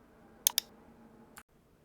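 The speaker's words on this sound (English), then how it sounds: "So click on create credentials" Mouse clicks on a web page button, two crisp quick clicks close together followed by a third a moment later, near and clean over a faint room hum.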